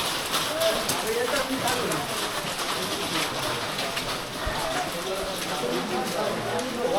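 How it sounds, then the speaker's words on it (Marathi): Heavy rain at a hillside fort gateway, a steady close hiss of falling rain throughout, with pigeons cooing faintly beneath it. "आणि आता पाऊस वाढला आहे"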